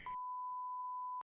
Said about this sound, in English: That's a phone notification and not helpful.